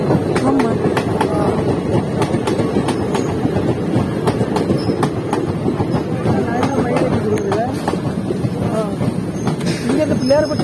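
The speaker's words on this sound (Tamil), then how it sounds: "முதல்ல வந்து நான் பாக்குறேன் ட்ரெயின் கடவைய" A train runs past a rail crossing in Sivaganga district, Tamil Nadu, its steady rolling rumble and rhythmic wheel clatter continuous and fairly close throughout, with people talking in the background.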